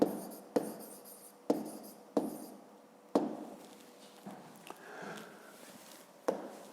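Pen or pencil strokes on paper while an answer to a fifth-grade maths exercise is written by hand, with a series of close, sharp taps and short scratchy strokes spaced irregularly in a quiet room.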